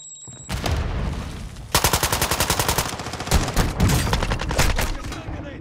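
Rapid gunfire from a Call of Duty match, a dense run of loud, closely spaced shots with a deep boom and mechanical clatter, continuing for several seconds after a brief quiet start with a high electronic tone.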